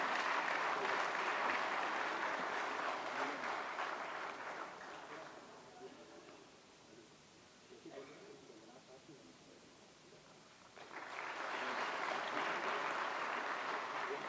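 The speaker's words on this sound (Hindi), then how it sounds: "उनको शॉल उड़ाकर प्रतीक चिन्ह भेंट करके जोरदार तालियां" Loud applause from an audience at a formal ceremony honouring a guest with a shawl and memento, swelling at first, thinning to a softer patter in the middle, then rising strongly again.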